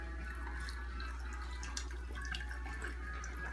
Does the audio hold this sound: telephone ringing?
no